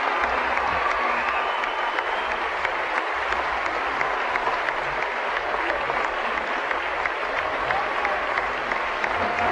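A crowd of about 2,400 faithful applauds in welcome as the Pope arrives and waves, a dense, sustained wash of clapping with some crowd noise, heard at moderate distance and continuing unbroken.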